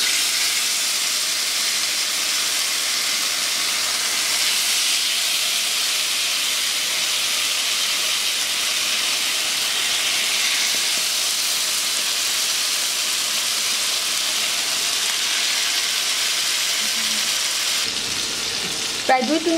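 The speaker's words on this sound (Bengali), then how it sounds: "এটাকে আমি উল্টে পাল্টে খুব সুন্দরভাবে ভেজে নিচ্ছি।" Chicken boti kabab skewers fry in a small amount of hot mustard oil, giving a loud, steady sizzle and hiss that runs unbroken. Near the end a few brief clanks come through, likely from the skewers being turned.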